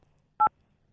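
Two short telephone keypad DTMF tones beep while a number is dialed, each a clean, loud dual-pitched blip separated by silence.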